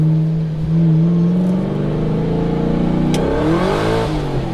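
A Ford GT or Lamborghini Huracán sports car accelerates hard, its engine note climbing in pitch through the revs, loud and close with a brief shift mid-pull.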